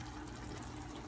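Water, a little over four cups, pours into a pot of rice for chicken pulao, a steady, continuous splashing stream that runs unbroken through the brief moment.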